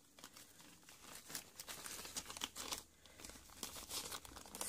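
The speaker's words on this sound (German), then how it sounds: "Die packe ich auch gleich wieder zurück in die Tüte," A plastic bag crinkles and rustles while a small handmade resin piece is packed back inside, close and continuous with sharp crackling bursts and no voices.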